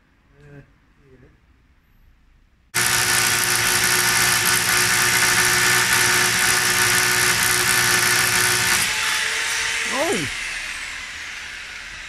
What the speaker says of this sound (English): He's got a very big drill, look.